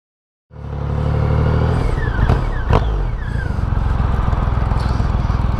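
A Triumph Rocket III motorcycle with its three-cylinder engine of over 2,300 cc starts from silence, settles into a deep loud idle, gets two sharp throttle blips, and keeps a throbbing, pulsing rumble close by.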